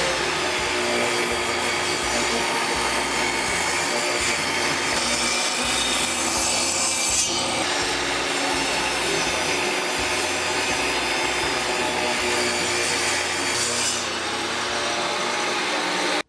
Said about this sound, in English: I just finished ripping that board